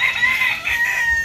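A rooster crows loudly and close by, one drawn-out cock-a-doodle-doo filling the whole moment.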